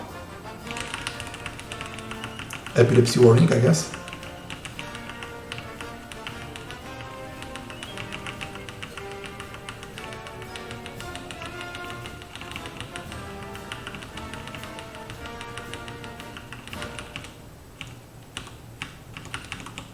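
Rapid clicking of computer keyboard keys being typed, a fast steady patter of light taps with a brief louder burst early on, faint game music underneath and a voice briefly speaking.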